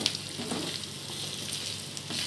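Mutton pieces frying in a pan give off a continuous, even sizzle and hiss, heard up close and alone for a couple of seconds.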